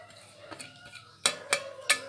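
A spoon mixes tapioca adai batter with chopped onion, turmeric, coriander and curry leaves in a bowl. Faint scraping comes first, then three sharp metallic clinks of the utensil against the vessel.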